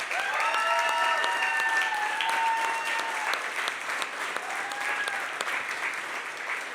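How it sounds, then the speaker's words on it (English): Audience applause at a storytelling night, a steady wash of clapping from the crowd with voices and cheers rising through it near the start. "So let's give one more round of applause."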